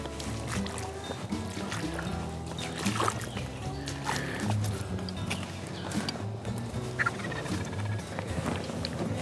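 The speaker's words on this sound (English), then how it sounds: "has heard a distant gobble" A wild turkey gobbler calls during the spring hunting season in the woods, its gobbles carrying across a busy, textured background that runs through the whole stretch.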